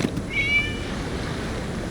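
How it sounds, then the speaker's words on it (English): A single short cat meow from the video game Genshin Impact rises briefly over a low, steady ambient background, then fades, leaving quiet game atmosphere. "It was just a cat."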